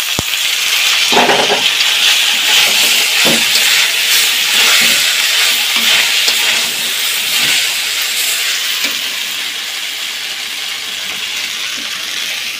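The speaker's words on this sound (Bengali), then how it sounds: "তো এটা ভাজা হয়ে কিন্তু ব্রাউন কালার হয়ে যাবে, তারপর আমি নুডলস অ্যাড করে দেব" Noodles frying in a hot pan with browning oil, giving a steady, loud hiss and sizzle with a few sharper crackles, no talking over it.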